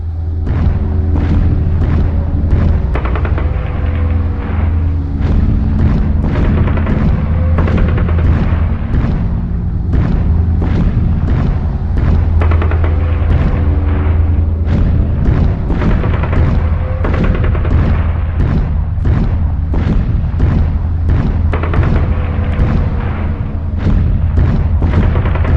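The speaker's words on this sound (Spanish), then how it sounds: "Más de 250 piezas de artillería participan para romper las posiciones republicanas." Heavy artillery bombardment from more than 250 Nationalist guns in the Spanish Civil War, a relentless barrage of deep booms and blasts overlapping continuously, loud and rumbling throughout with no pauses.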